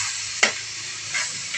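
Jackfruit cooking in coconut milk with sardines is stirred in a pot: one sharp spoon scrape, then softer stirring over a gentle, low simmer.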